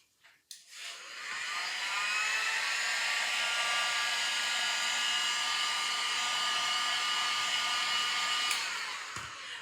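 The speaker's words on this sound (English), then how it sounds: "you can come in with your heat gun and dry this" A heat gun drying tissue paper for a craft background gives a steady, loud, airy whoosh. It starts after a brief click, holds evenly for about seven seconds, then cuts off.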